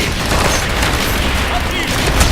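Gunfire in a Call of Duty Black Ops mission, with dense overlapping shots, booms and battle clatter filling the space while soldiers shout orders in German over the din.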